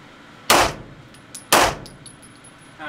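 Two loud, sharp shots from a P9M pistol with a badly bulged barrel, about a second apart, each with a short ringing tail, at an outdoor range.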